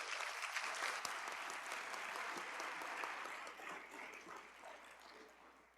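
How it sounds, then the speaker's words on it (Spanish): Sustained audience applause at an academic health and education congress session, dense and steady, welcoming a session coordinator to the stage, slowly tapering off toward the end with no voices over it. "Recibamos con un gran aplauso a nuestra coordinadora de este eje"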